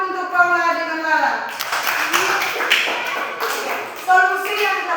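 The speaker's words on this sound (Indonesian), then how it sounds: "tepuk tangan dulu untuk Paula dengan Lala" Children in a classroom applaud two classmates, a burst of scattered, close clapping lasting a few seconds, with a voice speaking before and after.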